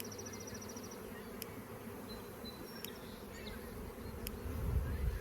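Honey bees buzz softly and steadily around an open hive during a colony split, a faint continuous drone with a few sharp clicks and a low rumble of handling near the end.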